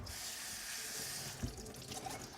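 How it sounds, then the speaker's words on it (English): Cold water runs steadily from a kitchen tap over chopped zucchini, a continuous hiss of flowing water, close and fairly quiet, with a small knock partway through and no talking. "Just gonna run some cold water on these."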